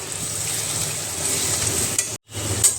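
Chopped tomatoes sizzle in hot oil with onions and garlic for a Bengali egg curry, a steady close frying hiss with light stirring, broken by a brief pause near the end.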